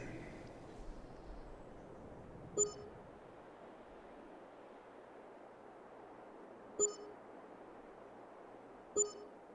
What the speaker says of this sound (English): Getting lots of little beeps.